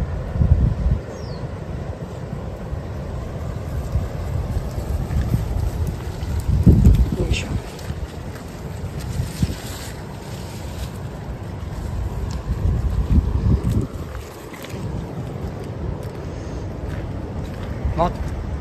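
Gusty wind on a coast during a typhoon roars steadily against the microphone with heavier rumbling surges throughout, and a voice is heard at times.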